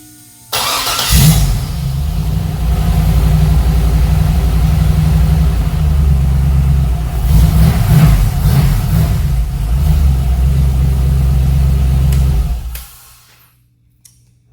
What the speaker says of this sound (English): All right, let's fire up the test motor.